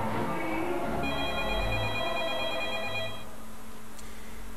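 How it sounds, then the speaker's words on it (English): Telephone ringing in a Backrooms horror video game, a steady electronic double-tone ring repeating for about two seconds before cutting off, with low rumbling ambience underneath. "Pick up the phone"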